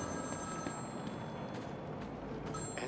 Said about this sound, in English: Answer my phone and answer it quick, Batman!